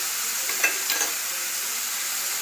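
Bitter gourd frying in a pan as red chilli powder, salt and crushed peanuts are stirred in, a steady soft sizzle with a couple of brief scraping stirs near the start.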